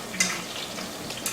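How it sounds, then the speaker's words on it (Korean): Whole washed sweet potatoes deep-fry in hot oil. A close, steady bubbling sizzle runs through the brief moment, with a couple of light crackles. "사실 오늘은 지금 제가 고구마를 준비해서 튀기는데"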